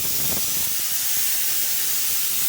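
Steam hisses steadily from a pressure cooker in a home kitchen, a continuous broadband rush at moderate, even loudness with no speech over it.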